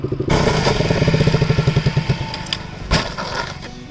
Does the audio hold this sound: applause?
no